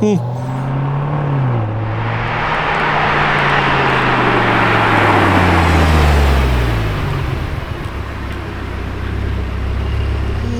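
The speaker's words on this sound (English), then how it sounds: "I hear another V10" A yellow Lamborghini Huracán Tecnica with a V10 engine passes on the road, its engine tone sweeping downward as it goes by and the roadway rush swelling then fading, with traffic around.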